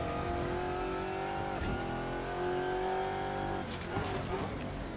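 A GT1 race car engine in Assetto Corsa at Laguna Seca revs hard, a loud sustained whine that holds, drops with a shift, then climbs again, with a faint scrubbing of tires near the end.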